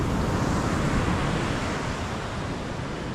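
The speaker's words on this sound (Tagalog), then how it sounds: "Tuwing hapon nalaki ang alon" Afternoon sea waves roll in as a steady, broad wash of surf, continuous and fairly loud with wind noise mixed in, no voices.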